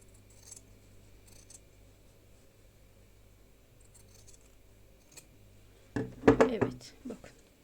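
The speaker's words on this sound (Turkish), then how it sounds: "kumaşımın fazla gelen kısmını bakın makasla kesiyorum" Scissors cut through excess fabric during wallet making: faint snips come at the start and then a louder cluster of crisp cutting sounds near the end, over a quiet room hum.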